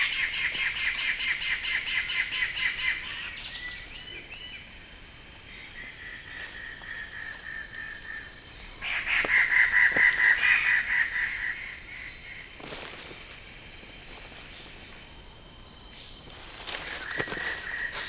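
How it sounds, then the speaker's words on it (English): Standardwing Birds-of-Paradise call at dawn at their display gathering: repeated rattling, pulsing notes and sharp calls ring out over a constant high insect drone, some bursts louder and closer. "Standardwing Birds-of-Paradise."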